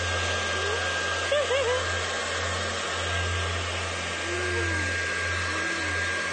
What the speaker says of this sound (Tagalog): Nagbo-blower daw siya ng buhok kasama ang kanyang anak